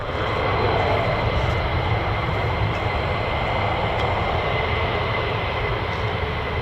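A military jet, either an F-15 or an F-35, waits to take off at an RAF air base used by a US Air Force fighter wing, its engine giving a loud, steady, continuous roar and whine close by.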